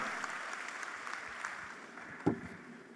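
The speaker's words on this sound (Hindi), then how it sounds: "आपकी तालियां कमजोर हैं, जोरदार तालियों के साथ" Steady crowd applause at moderate volume at an Indian New Year (Bhartiya Nav Varsh) event, a continuous wash of clapping with one brief sharper thud partway through.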